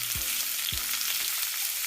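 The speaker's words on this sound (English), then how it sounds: "I already have my oil on fire and it's well heated, so I drop in the cheese." Pieces of soy cheese kebab drop into hot oil on medium heat with two soft thuds, followed by a steady, even crackling sizzle up close.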